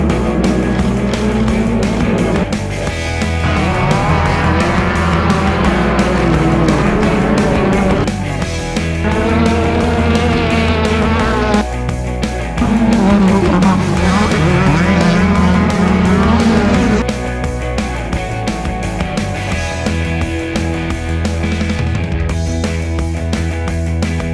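Off-road Pro Buggy race cars in a Lucas Oil Offroad Series race roar past one after another, loud high-revving engines rising and falling with gear changes throughout.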